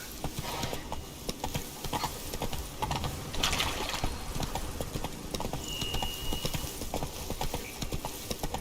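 Hooves of Roach, Geralt's horse in the video game The Witcher 3, pound in a fast, steady rhythm of close, loud clip-clops throughout, with a brief whinny-like tone partway through.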